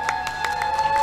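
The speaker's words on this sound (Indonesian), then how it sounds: "Ya, tepuk tangan dulu untuk" A studio audience at RRI Takengon gives the live band a short burst of clapping, quick and rhythmic, under a lingering sustained musical tone.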